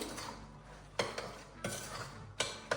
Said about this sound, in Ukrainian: Все це перемішую